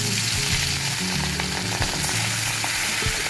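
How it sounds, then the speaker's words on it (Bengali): Small jatka hilsa fish fry in oil in a wok, a loud, dense crackling sizzle filling the whole short stretch, close up, with faint clinks of handling underneath and no talking. "দেখুন মাছগুলো আমি কড়াইতে দিয়ে দিচ্ছি, উল্টো পাল্টে করে আস্তে আস্তে করে ভেজে নেব।"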